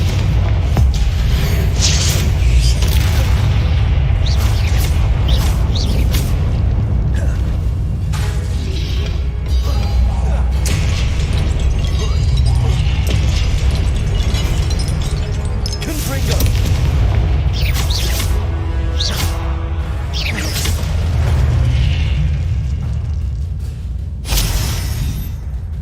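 Confringo spell explosions in the video game Hogwarts Legacy boom heavily and repeatedly over rumbling combat, with a voice calling out at points.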